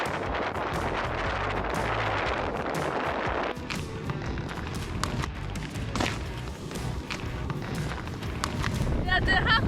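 Strong desert wind gusts roar continuously on a bicycle trip, buffeting loudly and near with broadband rushing that shifts partway through, while people talk over it.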